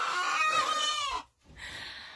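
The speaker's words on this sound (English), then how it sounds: "That speckled hen is crowing again." A speckled hen crows loudly twice in a farmyard with a guinea flock, the first call long and warbling, then a brief gap before a second shorter call, with no talk over it.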